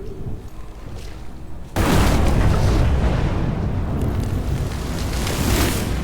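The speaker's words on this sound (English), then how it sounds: "Now that is how you shape an explosion." An explosion in the video game Evil West erupts suddenly after a quieter lead-in, a loud, broad roaring boom that rumbles on as a sustained, crackling wash of debris and fire.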